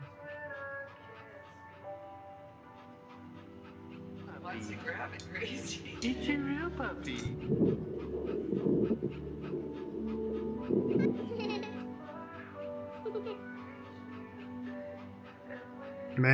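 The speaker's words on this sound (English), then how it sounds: "Little puppy!" Soft puppy panting and small whimpers from a game scene in That Dragon, Cancer, quiet and close, mixed with faint game sounds and a person talking over them in the middle.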